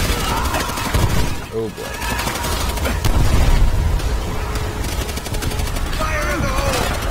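Rapid gunfire rattles through a World War II battle in World at War, bursts of shots layered with explosions and a continuous combat din while someone talks over the chaos.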